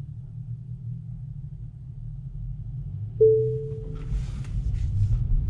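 A Tesla's single soft, short chime sounds once inside the car, stopped at a red light, telling the driver the light has turned green, over steady low cabin rumble.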